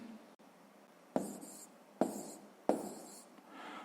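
Handwriting numbers for a sixth-grade math multiplication exercise, with three distinct pen or chalk strokes scratching across a surface at a steady pace, close and fairly quiet, with no voices.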